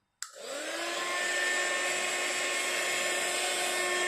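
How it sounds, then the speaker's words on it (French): A heat gun switches on and blows hot air steadily while heating a shaker card with a tulle window, giving a loud, continuous whirring hiss with a high whine. There is no talking. "Et je fais chauffer ça avec mon heat gun."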